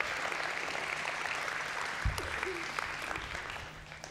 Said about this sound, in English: Big hand of applause for Charlie.